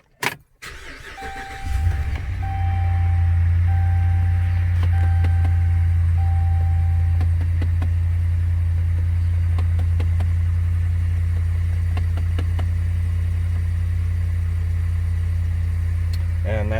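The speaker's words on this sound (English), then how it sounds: "I'm just going to start up the truck so you can hear the knocking noise." A Dodge Ram 1500 pickup with a faulty rear blend door cranks over and settles into a steady, loud idle close by, with faint intermittent ticks and knocks over the low engine drone.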